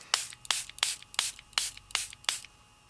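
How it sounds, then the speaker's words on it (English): Water spritzed from a spray bottle straight onto craft paper during a distress-stain project: seven quick, evenly spaced hissing bursts, close and crisp, with no voices. "I'm going to spray directly to my paper a little bit of water"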